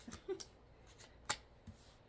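Tarot cards being shuffled by hand: a few soft, quick riffling flicks and taps spread out with pauses between them, faint and close, with no talking.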